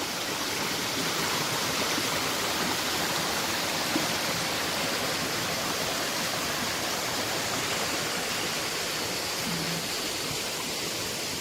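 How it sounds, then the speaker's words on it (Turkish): Steady rushing water fills the whole clip, a continuous broadband roar of a small waterfall in Tokatlı Canyon, Safranbolu, Turkey, close and unbroken. "Buranın şelalesi de bu kadar."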